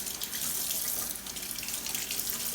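Tap water runs steadily in a kitchen sink as a plastic bottle and green onion roots are rinsed, a continuous close hiss and splash with no pauses.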